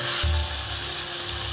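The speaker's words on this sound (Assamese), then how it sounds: "মাংসখিনি ভালকৈ ভাজি ল'ম" Goat meat with whole potatoes sizzles loudly in a hot pan for mutton curry, with a sharp burst of frying as it hits the oil, then a steady close crackle.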